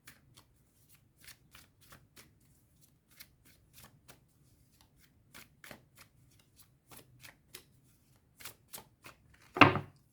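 Tarot cards being shuffled and cut by hand, a series of soft riffling flicks spread across the clip that ends in a louder, fuller shuffle burst, with no talking.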